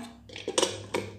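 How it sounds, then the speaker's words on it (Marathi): A pot of cake batter set down on a stand inside a preheated pressure cooker, heard as a few quick metallic clinks and knocks. "मिश्रणाचे भांडे कुकरमध्ये अलगद ठेवून द्या"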